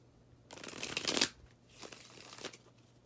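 Tarot cards shuffled by hand in a quiet room during a reading: a dense riffling burst for about a second, then two shorter, softer shuffles.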